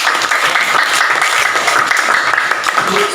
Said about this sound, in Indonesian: beri tepuk tangan untuk Ina dan juga Sani.